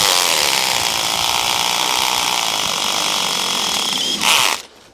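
A power drill with its clutch engaged drives screws into timber for a triangle-shaped garden room, a loud, sustained motor whir that ends in a short ratcheting burst before cutting off.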